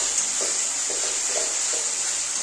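Masala spices frying in a pan with a constant bright sizzle and soft, regular stirring scrapes about every half second underneath.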